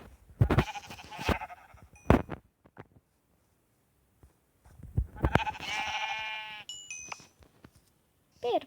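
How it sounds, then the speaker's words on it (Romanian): Sheep bleating in the Minecraft video game, several short bleats in separate bursts against a quiet background, with a few other brief game sounds between them. "uitați la oi!"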